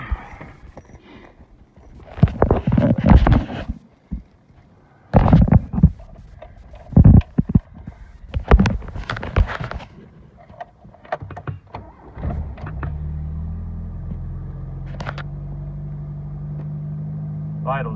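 A 1984 Dodge Omni GLH engine is cranked and fires up, with bursts of cranking and revving before settling into a steady, fairly loud idle with the choke on; a voice speaks briefly between the bursts.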